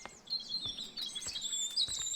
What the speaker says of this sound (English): Look at him singing up there.